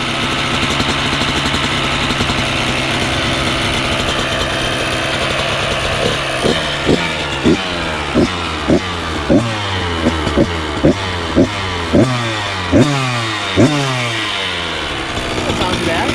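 A 2014 Kawasaki KX85 two-stroke dirt bike engine runs steadily, then revs in a series of sharp, evenly spaced blips, loud and close.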